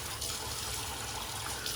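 Water pouring steadily into a small shaving bowl, a brief continuous splashing gush heard up close.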